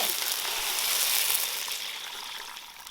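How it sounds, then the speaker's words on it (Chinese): Scallion, ginger, star anise and spices hit hot leftover oil in a wok, then water goes in, producing a loud, steady hiss that fades slightly toward the end. "把刚刚泡水的那些葱姜啊、大料、香料放进来， 给它炒出香味，然后加水"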